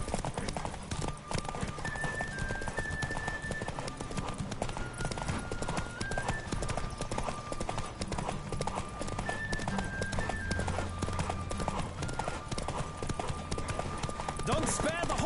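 Hoofbeats of a racing horse in The Witcher 3 drum on without pause, loud and near, mixed with background music and brief voice calls throughout.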